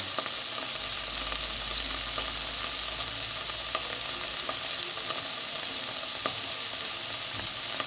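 Food cooked without oil hisses and sizzles steadily in a hot pan as masala is sprinkled over it, a constant close crackling with faint scattered ticks and no talking.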